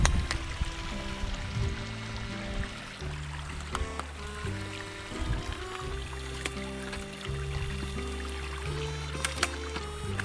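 Creek water tumbles steadily over cascading rocks along a forest hiking trail, a soft continuous rush running under a low droning hum throughout.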